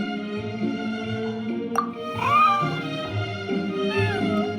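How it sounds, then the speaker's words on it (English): A cat from the video game Genshin Impact meows a few times, short rising mews heard over steady background music. "Here, kitty, kitty!"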